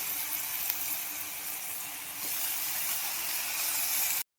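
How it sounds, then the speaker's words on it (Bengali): Chopped leafy greens land in a hot oiled pan, giving a steady, loud, close sizzle and hiss that holds for about four seconds before cutting off. "শাকটা এবার দিয়ে দিচ্ছি।"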